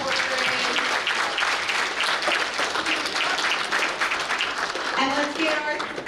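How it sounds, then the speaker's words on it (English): Sustained applause from an audience at an elementary school geography bee, dense and loud clapping that holds steady for several seconds, with a voice speaking briefly underneath. "Let's give a round of applause for our 4th grade."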